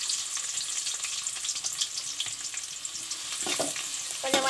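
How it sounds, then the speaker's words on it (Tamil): Garlic frying in hot oil for a Kerala-style chicken curry, a soft, steady crackling sizzle with a few louder stirring scrapes near the end. "எண்ணெய் ஊத்திக்கலாம். எண்ணெய் சூடாகட்டும். அப்புறம் உள்ளி போட்டுக்கலாம்."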